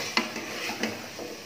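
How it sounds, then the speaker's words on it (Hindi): Sliced potatoes and spices stirred in a pan, with a spoon scraping and clinking against the metal in a few distinct strokes over a soft sizzle. "इसको अच्छे से मिक्स कर लें।"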